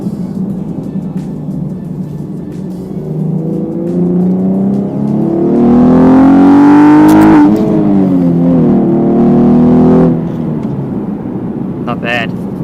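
Engine of a 2017 Chevrolet Camaro RS with a manual gearbox, revving up through a gear with a raspy exhaust note, a gear change midway, then a second climb before easing off, loud from the cabin.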